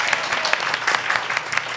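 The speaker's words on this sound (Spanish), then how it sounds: "Así que un aplauso para ella también" A live podcast audience claps for a woman opening cafés, a lively and fairly loud round of hand claps with distinct sharp hits scattered through a continuous crackle, no talking on top.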